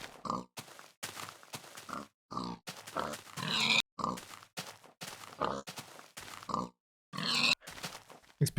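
Pigs in a video game give a run of short, rough grunts and snorts in quick irregular bursts with brief gaps, fairly close and alone.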